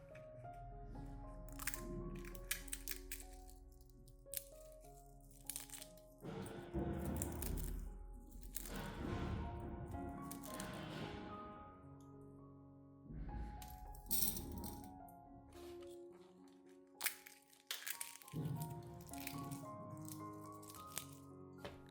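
Dried eggshells are crushed into small pieces in scattered bursts of crisp crunching and rattling, with brief sharp clicks and pauses between them, quiet and close.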